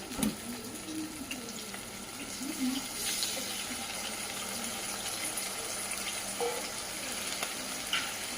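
Mutton going into hot oil in a pan for a village-style curry, a steady moderate sizzle and frying hiss continuing throughout with faint stirring and a few brief clinks, no talking.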